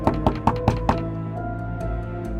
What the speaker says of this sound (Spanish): escuchó que alguien tocaba su puerta